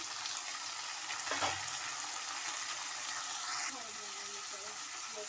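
Onions and finely chopped tomatoes fry in a pan with a steady, bright sizzle that keeps going throughout, with a brief stirring clatter and a voice talking over the cooking.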